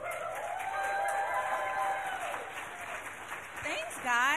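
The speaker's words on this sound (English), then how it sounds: "If we can get a big clap for them as they come up." An audience at a children's ministry service claps for the leaders coming up, a dense steady wash of applause mixed with cheering voices, swelling again near the end.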